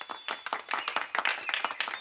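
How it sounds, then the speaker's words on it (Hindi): Cartoon clapping, a run of distinct, fairly quick hand claps in an uneven rhythm over two seconds, with a faint high tone running underneath. "मेरे लिए तालियां बजाओ।"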